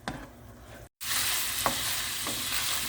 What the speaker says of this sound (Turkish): Kıymamız bakın patır patır yaptı